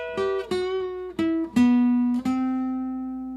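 An acoustic guitar picks the opening notes of a solo, five plucked single notes in succession descending in pitch, the last one ringing out and fading, played alone and up close.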